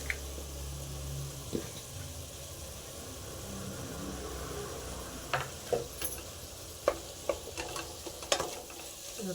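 Chopped tomatoes frying in a pan over previously fried onions and greens for egg pulao, a steady soft sizzle with intermittent sharp scraping clicks of a spatula stirring, growing more frequent toward the end, no talking.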